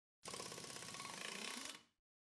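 A power drill drives conduit into place, a single steady whirring burst of about a second and a half that winds down at the end, close and alone.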